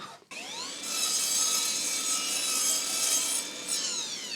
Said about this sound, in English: with the miter saw already set up to 8 degrees, we can make the first cut